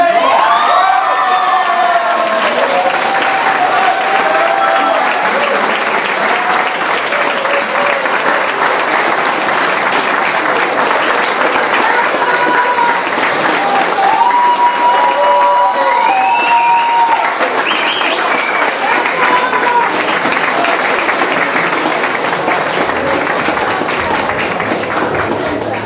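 A crowd applauds at a spring junior beauty pageant in Malbork, with loud sustained clapping and scattered cheers and children's shouts filling the whole stretch.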